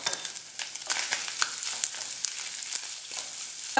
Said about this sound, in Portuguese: Agora que o bacon já está quase todo fritinho, podemos adicionar a linguiça.